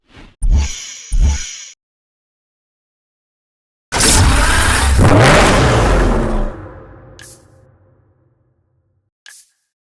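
A sports car engine in the racing game Need for Speed Hot Pursuit fires with two short blips, then roars in one loud sustained rev that fades away, followed by a couple of faint clicks.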